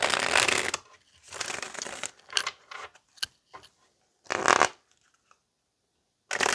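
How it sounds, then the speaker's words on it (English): Tarot cards being shuffled in quick riffling bursts separated by short pauses, crisp and close with papery flutters and soft taps, no talking. "But let's go ahead and pull some tarot here and clarify."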